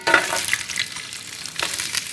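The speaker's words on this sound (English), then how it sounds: "heat 2 tablespoons of extra virgin olive oil and cook the carrots in that pan" Carrots sautéing in extra virgin olive oil in a large skillet, a steady close sizzle and crackle with brief stirring scrapes, no talking.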